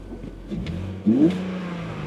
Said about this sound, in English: you shouldn't rev a cold engine.